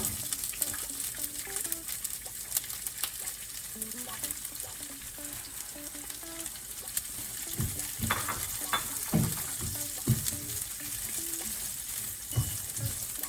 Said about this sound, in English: The sizzle of the pan is a sound that is close to my heart.